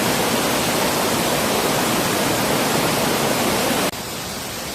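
A fast, full mountain stream in a valley near Seoul after rain, rushing and splashing as a loud, steady broadband roar close by, with the level dropping slightly near the end and no voices.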